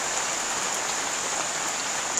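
A steady downpour of rain hisses evenly on outdoor surfaces, continuous and fairly loud, with no voices over it.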